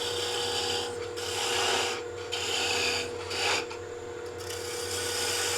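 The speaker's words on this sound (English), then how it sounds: "So I part down with that 1/4 inch parting tool" A 1/4 inch parting tool cuts into a wooden spin top turning on a wood lathe, giving a steady, close raspy scraping that swells and dips in several passes without pause.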